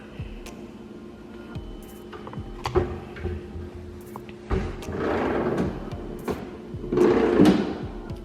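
A soft-close drawer in a kitchen island in a Dallas apartment slides and settles with light knocks and clicks, then two longer rolling rumbles as it glides shut slowly, close by and with no voices.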